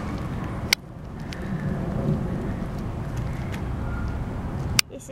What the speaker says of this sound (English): This is like after like 10 minutes of rain.